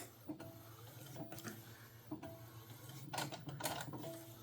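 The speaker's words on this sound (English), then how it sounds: "I'm going to let this finish printing out" A DTF printer runs a T-shirt transfer job, giving a quiet, steady mechanical whir with intermittent clicks and brief shuttling bursts from the print head carriage.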